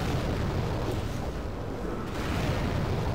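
Explosions chained together in the Demon's Souls video game, a dense continuous rumbling roar with booming bursts that stays loud and steady throughout.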